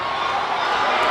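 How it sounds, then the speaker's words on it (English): A crowd at a boys' high school hockey game roars steadily, with a loud, sustained wash of cheering and yelling and no break. "the crowd's going crazy"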